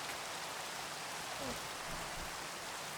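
Rain falling in Minecraft, a steady soft hiss of dense raindrops, continuous and even at low level with no talk over it.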